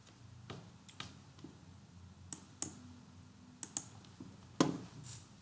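Mouse clicks while working in the Allpile 7 pile analysis software on a computer: a handful of sharp, isolated clicks spaced irregularly, close and fairly quiet over a low hum.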